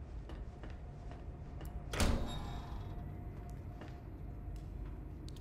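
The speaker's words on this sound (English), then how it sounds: "Door." A door opens in the video game Bendy and the Dark Revival with one sharp burst of noise against a steady low ambient rumble.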